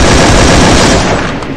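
Rapid, continuous gunfire from a video game, dense bursts of shots packed together, loud and close throughout.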